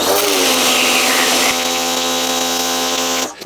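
A V-Tuf V1 pressure washer runs with its 15-degree fan nozzle, a steady loud motor-and-spray drone with a constant whine that holds for about three seconds and then cuts off abruptly.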